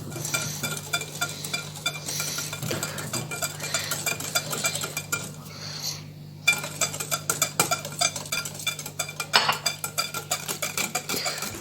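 Cake batter being mixed by hand in a bowl as vegetable oil is slowly poured in, for a chocolate cake; steady close scraping and clinking of utensil against the bowl, continuous with a low hum underneath and no talking.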